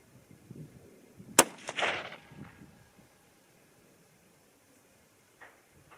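A single sharp .308 Winchester rifle shot firing a 125-grain Nosler load over Varget powder, cracking loudly near the start, followed by a short rolling echo that fades into quiet outdoor ambience with a faint later knock.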